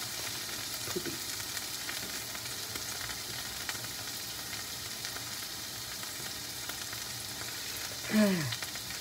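Tuna frying in a lot of hot oil gives a steady, dense sizzle and crackle throughout, close and fairly loud, with one sharper spatter burst near the end and no talking.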